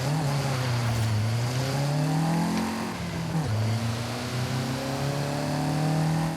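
A Toyota Sports 800's tiny 0.79-litre engine revs in Forza Horizon 5, a loud buzzing drone that climbs in pitch, drops sharply midway, then rises again.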